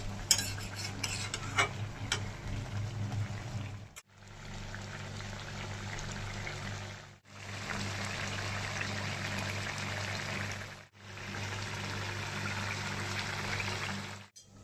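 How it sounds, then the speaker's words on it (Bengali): A spoon works through a pan of potato and drumstick posto curry sweetened with a little jaggery, a steady close scraping and stirring with a soft simmering wash that breaks off briefly three times. "এখন ভালো করে নাড়িয়ে চেড়ে দিচ্ছি।"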